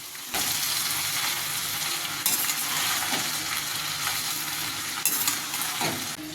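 Beans and carrots frying in oil with mustard seeds give a steady, close broadband sizzle, broken by a few louder scraping stirs of a spoon in the pan; no one speaks.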